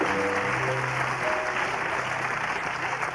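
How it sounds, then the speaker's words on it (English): A studio audience at a television talk and quiz show applauds with steady, dense clapping that carries on evenly for a few seconds, moderately loud, with faint voices and some tonal sound underneath. "could we give them some applause to send them off here?"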